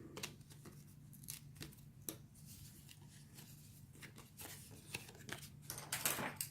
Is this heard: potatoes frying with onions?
no